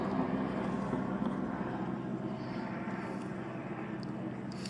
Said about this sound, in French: et un avion qui passe comme par hasard en même temps que j'ai fait ma vidéo